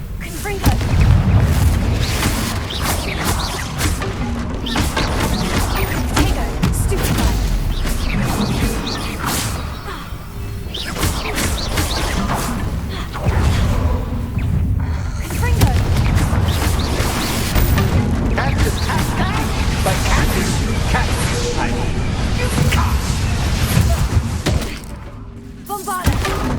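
Confringo fire spell blasts in Hogwarts Legacy combat, a dense roar of repeated booming explosions, thuds and whooshes layered with music and game voices over about half a minute.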